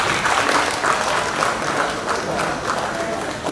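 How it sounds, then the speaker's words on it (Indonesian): Audience applause fills an evening stage show of rock-and-roll wayang, a dense, sustained clapping from a large crowd that stays loud throughout. "Tepuk tangan yang luar biasa."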